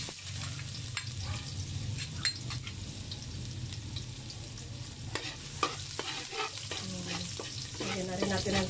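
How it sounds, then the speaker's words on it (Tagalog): Garlic sautés in cooking oil in a wok-style frying pan for a spicy liver and gizzard adobo, giving a steady low sizzle with scattered sharp clinks and scrapes of a utensil stirring, close and continuous throughout. "Ito po, nilagyan ko na po ng mantika, ating kawali. Nagigisa lang natin ng konti."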